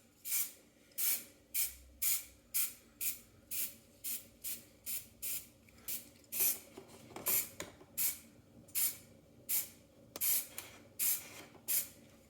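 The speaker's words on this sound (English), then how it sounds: "What I'm going to do is just going to spray just kind of across" Repeated short bursts of spray paint, about twenty quick hisses in a steady rhythm, close and fairly loud with brief pauses between them, dusting tabletop scenery terrain.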